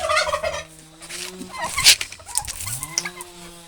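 Turkeys gobbling and calling close by, with hen clucks mixed in, loud and overlapping in an outdoor farmyard.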